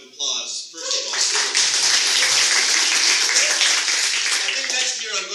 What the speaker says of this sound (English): Give yourself a round of applause, first of all.